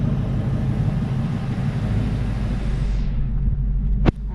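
A Ford Mustang GT350 engine idles in gear with the rear wheels spinning, a steady low rumble that carries on close and even, its upper hiss dropping away near the end, with a brief sharp click just after.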